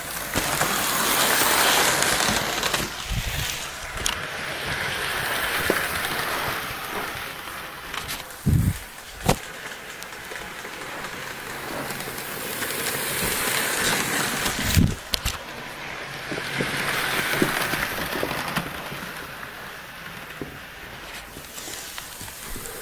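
Hornby BR Class A3 'Windsor Lad' model steam locomotive running past on its track, a steady rolling rumble that swells, fades and swells again as it passes close by twice, with a few sharp clicks along the way.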